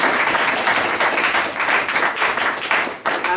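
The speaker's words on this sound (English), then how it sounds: "So why don't we give them a round of applause." Applause fills a room at a charity launch event in Birmingham, a dense, steady patter of many hands clapping at once, moderately loud and sustained throughout, with faint crowd murmur beneath.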